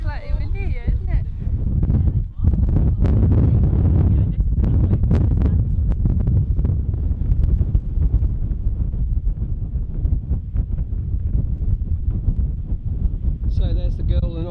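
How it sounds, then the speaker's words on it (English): Strong wind buffets the microphone in a constant low roar on a high exposed hilltop, with a person talking briefly at the start and end. "if you can hear me over the wind"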